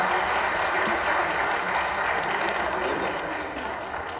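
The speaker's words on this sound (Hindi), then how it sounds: "यार एक बार जोरदार तालियां होना चाहिए, जोरदार तालियां, जोरदार तालियां" A large audience at a women's honours award ceremony breaks into thick, continuous applause, a dense even roar of clapping that holds steady and eases slightly toward the end.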